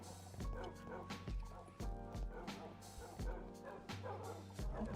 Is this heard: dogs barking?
yes